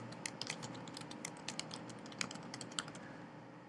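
Quiet, rapid typing on a computer keyboard, irregular clusters of sharp key clicks close to the microphone.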